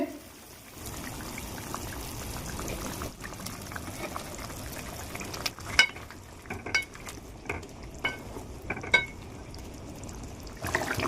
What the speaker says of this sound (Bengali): দেখো ঝোল ফুটে উঠেছে